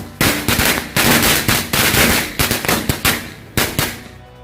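Korek firecrackers (mercon) go off in a rapid string of sharp, loud pops, first in dense bursts and then as spaced cracks. They sound close, and nobody speaks.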